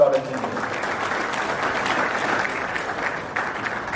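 Sustained applause from an audience at a birthday celebration for an education society founder, a dense steady wash of many hands clapping with a faint voice near the start.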